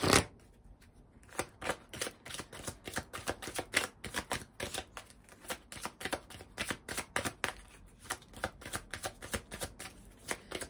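Tarot oracle cards are shuffled close up, giving a steady series of crisp riffling snaps and flicks that repeat rhythmically for about ten seconds with no talking.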